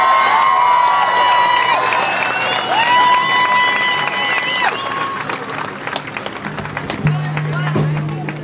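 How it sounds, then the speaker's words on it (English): A crowd at a ceasefire rally at the US Capitol applauds and cheers loudly for Congress members Rashida Tlaib and Cori Bush, a steady dense roar of clapping and shouts with voices mixed in throughout. "So join me, please, in giving a warm round of applause to Congress people Rashida Tlaib and Cori Bush."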